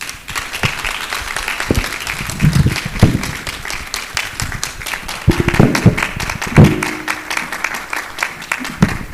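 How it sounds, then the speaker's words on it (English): A hall audience at a governance forum gives loud, sustained applause, with a mass of close clapping and a few sharper individual claps standing out. "let's be upstanding with a resounding round of applause, please, as she returns to her seat"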